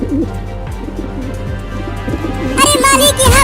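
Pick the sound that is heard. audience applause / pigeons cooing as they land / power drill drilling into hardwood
pigeons cooing as they land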